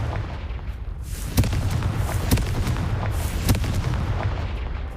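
A Confringo blasting spell in Hogwarts Legacy goes off as a series of sharp booming blasts, about three or four heavy impacts spaced roughly a second apart over a rumbling background.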